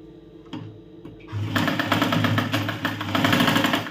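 A sewing machine stitches three tucks into a blouse: a few quiet clicks first, then a loud, steady, fast-running whir with rapid needle chatter that carries to the end.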